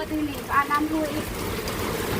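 Rain falling outdoors as a steady, soft patter and hiss throughout, fairly quiet, with a voice briefly audible over it.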